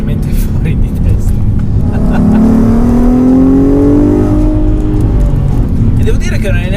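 A Volkswagen Golf R32 MK5 exhaust revs loudly and close, with engine pitch climbing steadily over several seconds and then settling, the sustained roar staying strong throughout.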